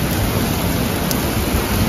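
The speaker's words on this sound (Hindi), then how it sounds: "ये देखिए बरसात का मौसम फिर से चालू हो गया है मुंबई में। ये देखिए हवा के साथ पानी" Steady wind-driven monsoon rain in Mumbai, a dense continuous hiss of water pouring down close by, with no voices over it.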